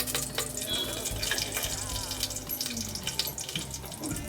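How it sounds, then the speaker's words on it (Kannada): Garam masala hits hot oil and ghee in a pan for a Karnataka tomato rice dish, sizzling in a steady, close, crackling hiss with a low hum beneath and no speech. "ಇವಾಗೆಲ್ಲ ಕಾದಿದೆ, ಆಯಿಲು ತುಪ್ಪ ಕಾದಿದೆ. ಗರಂ ಮಸಾಲೆ ಸೇರಿಸ್ಕೊತಾ ಇದ್ದೀನಿ."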